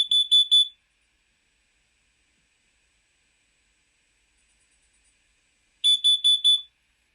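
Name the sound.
smoke alarm and CO alarm beeping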